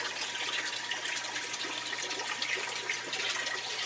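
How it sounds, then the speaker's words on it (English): Water pours steadily into a planted goldfish tank during refilling, a continuous close splashing gush with no breaks and no voices. "I'm refilling the tank opposite from where I just planted so that the plants don't get disrupted"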